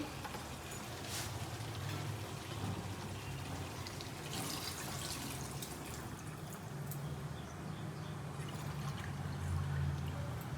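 Water pours steadily into methi chicken cooking in a pot over a wood fire, a continuous splashing wash with a low, even rumble underneath, heard alone without voices.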